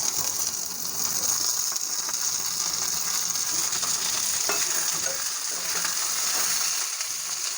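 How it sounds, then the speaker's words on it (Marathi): Cluster beans (guar) frying in a pan with onion and garlic make a continuous, even sizzle, close and moderately loud, with soft scraping and stirring clicks scattered through it and no talking. "मी ह्या ठिकाणी गवार फ्राय करून घेणार आहे"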